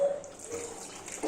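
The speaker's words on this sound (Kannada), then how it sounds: "ಈಗ ನಾನು ಇನ್ನು ಸ್ವಲ್ಪ ನೀರು ಹಾಕ್ಕೊತಿದ್ದೀನಿ" Water poured into a cooking pot of mutton boti masala, a steady close trickling splash running for about a second with a slightly louder gush near the end.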